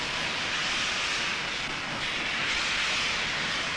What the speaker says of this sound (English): We leave Bulawayo for the north on the daily mixed goods and passenger train to Thompson Junction, pulled by Garrett loaned by South Africa.